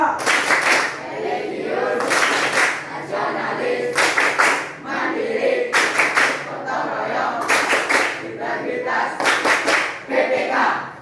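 Classroom Tepuk PPK routine: a class of students clapping in rhythmic bursts, groups of sharp claps separated by brief pauses, with voices chanting along between the clap patterns.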